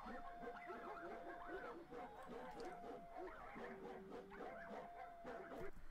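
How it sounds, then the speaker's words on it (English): Flying monkeys sound effect layered with puppies barking and a howl: continuous yips and barks throughout, with a sustained howling tone riding on top at low overall level. "puppies barking or whatever, and I've layered it underneath."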